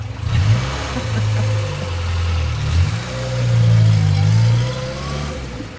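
An old classic convertible pulls away along the coast, its mid-pitched engine rumbling close and rising in a couple of revving surges as it gets underway.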